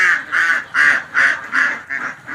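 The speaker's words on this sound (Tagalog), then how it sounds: "Nabawasan na po ang ating mga alagang itik." Domestic ducks quack loudly and close by in a rapid run of six harsh, evenly spaced calls, with nothing else heard around them.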